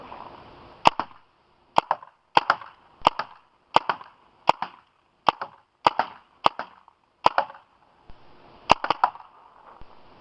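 Paintball marker shots from a Tango One or Sierra One striking a plywood board from 25 feet, a series of sharp cracking pops in irregular pairs and singles with a brief echo after each, loud and without speech.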